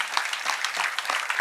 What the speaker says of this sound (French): C'était la séquence poésie, ça s'applaudit.